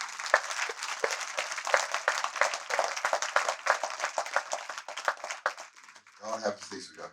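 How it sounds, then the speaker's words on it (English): Audience applause for a poet's guest brought on stage, a dense wash of clapping that fades near the end as a voice begins speaking. "give her a round of applause"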